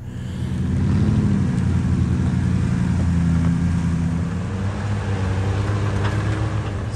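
Jeep camper crawling off-road on a wooded trail in Pennsylvania, its engine giving a steady, loud low rumble that holds throughout with slight surges in revs.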